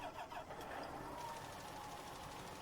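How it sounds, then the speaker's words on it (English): A tractor engine in the Farming Simulator 19 farming game cranks and catches, settling into a steady mid-pitched running drone that fills the short stretch at close range with no voices. "start the engine"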